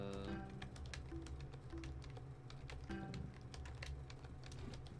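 Computer keyboard typing, a steady run of quick light clicks, sits close and moderately loud under background music with a low thumping beat from a Tetris game.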